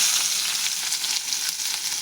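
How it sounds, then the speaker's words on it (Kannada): Chopped onions frying in hot oil make a loud, close, steady hiss of sizzling for a couple of seconds, with no voices. "ಇದೇ ಎಣ್ಣೆ ಒಳಗೆ ನಾನು ಉಳ್ಳಾಗಡ್ಡೆ ಕರ್ಕೋತೀನಿ ನೋಡ್ರಿ"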